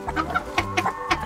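Broody gurk hen clucking close by, a short series of soft rhythmic clucks and low grumbles lasting just over a second.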